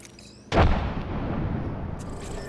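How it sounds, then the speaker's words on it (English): A frag grenade detonates in the Apex Legends battle royale game, one sharp booming blast followed by a long rumbling, crackling decay that fades gradually. "Frag grenade sent."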